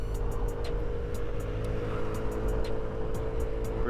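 A 2008 Honda Zoomer 50 scooter accelerates downhill, its small engine droning steadily and close with a constant buzzing hum and rhythmic clicking ticks over wind noise, holding near a steady pitch throughout.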